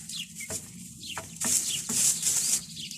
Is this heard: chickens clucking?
yes